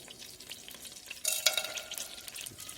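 Whole spices such as cumin and fennel seeds hit hot ghee in a pan, giving a faint crackling sizzle that swells suddenly midway and keeps spitting softly.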